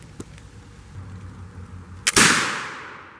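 A single flintlock rifle fires outdoors in the rain: a faint click and pan flash, then a sharp loud blast with a short fading tail, and no voices.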